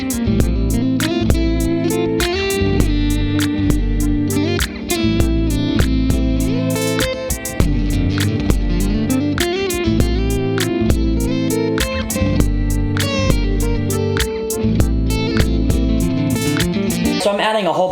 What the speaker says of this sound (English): So if I wanted to add a solo kind of thinking about neo-soul fills R&B style with a Dorian type feel